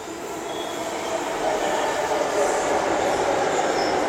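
A Bangalore metro train runs between stations with a steady, close rumble and hiss that swells slightly after the first second and holds evenly throughout.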